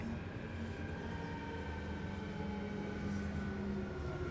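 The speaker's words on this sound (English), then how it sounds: "the tram would arrive" A tram arrives in a sci-fi mining setting, a low, steady rumble with sustained mechanical hums and whines, moderately loud and continuous with no voices.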